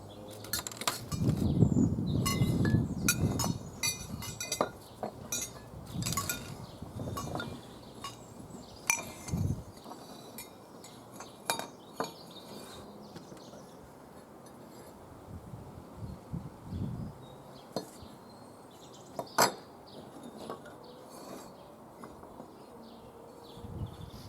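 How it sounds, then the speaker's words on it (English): Metal wind chime pipes clink and tap lightly now and then as they are laid out in a star pattern, with sparse clear knocks over quiet handling noise and no speech. "I'm just laying out the pipes in a star fashion, just so that it's easier to see"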